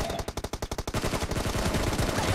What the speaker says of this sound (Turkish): adam 3 kurşunla beni vuruyor